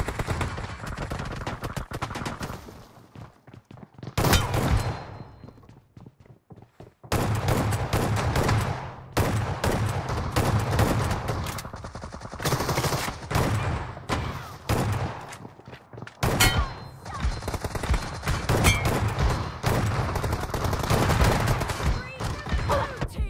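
Heavy gunfire from a BGMI match, shotgun blasts among it, comes in loud dense stretches broken by brief quiet gaps, with game sounds and voices in the mix.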